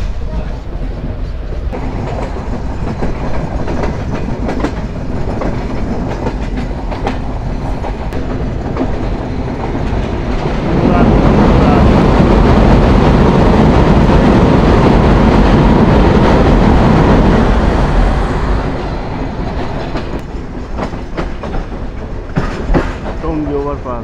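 A passenger train runs on rails between Dhaka's Airport and Tongi railway stations with a continuous rumble and rhythmic clickety-clack, swelling louder through the middle stretch and then easing off toward the end.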